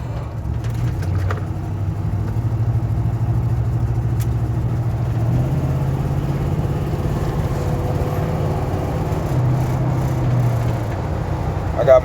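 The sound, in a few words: old truck driving, interior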